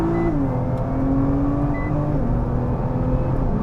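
Nissan GT-R safety car accelerating hard on the Assen circuit: a continuous engine drone with tones that rise, shift as it changes gear, then rise again, heard close and steady, with no talking.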